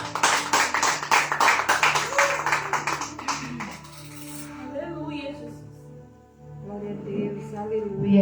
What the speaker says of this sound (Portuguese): Receba a serva do Senhor com palmas para Jesus, igreja.